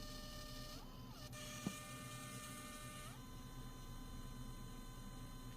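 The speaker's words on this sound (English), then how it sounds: "The blue paper is feeding out as it should." An LG Pocket Photo Printer hums steadily while feeding paper out, its faint motor whine shifting pitch a couple of times with a small click midway.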